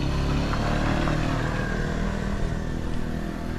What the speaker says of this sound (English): and that motorbike going past,